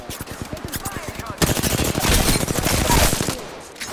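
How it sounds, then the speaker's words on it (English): Rapid gunfire bursts in Apex Legends, fast rhythmic automatic shots that grow louder and denser partway through, with a player's voice mixed in. "Shot fired, and they're hitting me. Taking fire."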